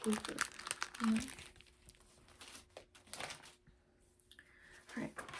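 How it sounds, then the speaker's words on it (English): Crinkly plastic protective cover on a vintage hardcover children's book rustling in close, soft crackling bursts, busiest at the start and again near the end, with quiet pauses between. "crinkly plastic paper,"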